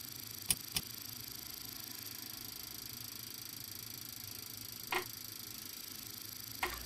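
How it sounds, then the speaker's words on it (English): CRJ-200 throttle levers in a flight simulator give off a few short mechanical clicks, a close pair near the start and two more later, spaced apart over a quiet steady hum. "Throttles have their own dedicated sounds,"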